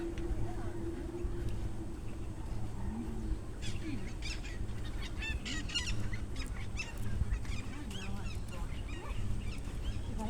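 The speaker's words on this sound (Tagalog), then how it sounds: "Mga bird. Maengay." Birds call noisily and persistently in a Singapore Chinese garden, honks and bright chirps rising over a steady outdoor hum while people talk nearby.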